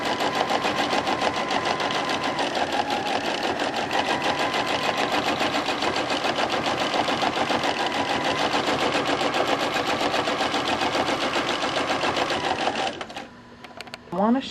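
A sewing machine runs steadily while free motion quilting a feathered border, its rapid needle stitching loud and continuous for about thirteen seconds before stopping near the end.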